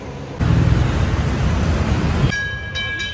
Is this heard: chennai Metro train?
yes